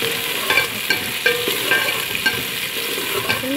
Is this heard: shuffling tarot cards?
no